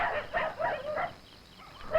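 Village dogs barking in a few short, sharp bursts at moderate distance, separated by brief pauses, with no talk over them.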